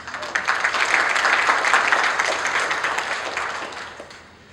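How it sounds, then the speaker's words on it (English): An audience at the opening of a spine society scientific congress gives a sustained round of dense applause that tails off and fades near the end. "So give yourselves a round of applause."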